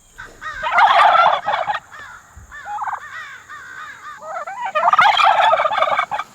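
Several turkeys, mostly males, gobble from a coop in loud, close, rippling bursts, one rolling call early and another near the end, with quieter clucking between and no voices.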